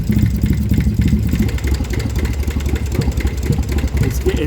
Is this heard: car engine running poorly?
yes